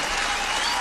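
A live concert audience gives a brief, dense burst of applause for a guest cumbia combo performing with a band. The clapping is steady and crowd-wide with no voices over it.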